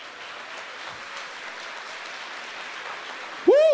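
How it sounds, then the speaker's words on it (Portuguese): Dense applause from a congregation at a church service, a steady wash of clapping that fills the space, then a brief rising tonal sound cuts in near the end. "Pode aplaudir, pode aplaudir."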